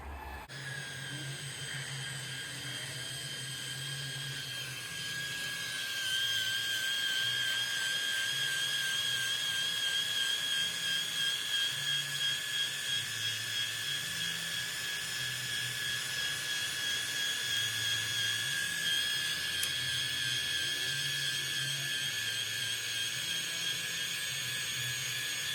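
An electric air pump inflates a camper trailer's tent, giving a steady, loud mechanical whine and hum that runs continuously, rising slightly in intensity after the first few seconds, with no voices.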